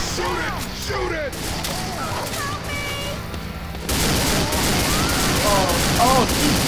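Rapid gunfire and game action in Left 4 Dead 2, dense sustained shooting that thickens in the second half, with excited voices shouting throughout.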